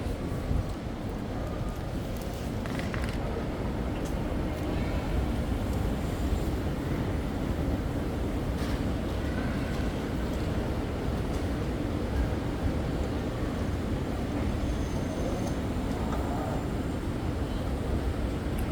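Steady, dense station ambience fills the space: a constant rumble of machinery and crowd noise, with faint distant clanks and tones drifting through.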